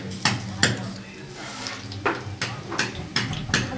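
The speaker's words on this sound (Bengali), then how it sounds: "বড়াগুলো দেখো কি সুন্দর ভাজা হচ্ছে" Shrimp fritters fry in a pan with a soft sizzle under repeated clinks and scrapes of a utensil against the pan, close and moderately loud.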